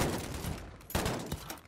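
Rapid automatic gunfire with tracer rounds in the online shooter game Modern Warfare Infected mode, a dense continuous burst of shots heard fairly quietly in the game mix.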